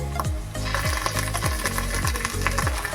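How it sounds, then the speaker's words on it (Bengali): Ginger garlic paste sizzles in a hot pan while a utensil scrapes and stirs in a regular rhythm, roughly twice per second. "এবার আমি এই জিঞ্জার গার্লিক পেস্টটা দিয়ে দেবো পুরোটা"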